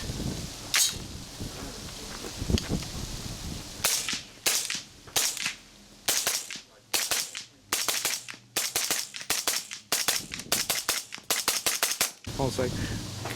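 300 Blackout rifle shots through a Liberty Leonidas suppressor crack in a rapid string of loud, sharp reports, some as quick doubles, followed by brief talk at the end.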